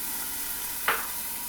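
A short, sharp hiss of water hitting a hot pan of frying gyoza bursts over a steady background sizzle, then fades back into the frying.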